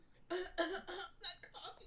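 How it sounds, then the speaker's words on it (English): A man coughs in several harsh, rough bursts spaced closely together, loud and near, with some throat clearing mixed in. "That's not what my fucking coughs sound like."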